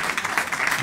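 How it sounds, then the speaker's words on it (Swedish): A comedy-club crowd applauds at a Swedish stand-up show, with a dense, steady wash of clapping throughout the brief moment. "En applåd till er allihopa!"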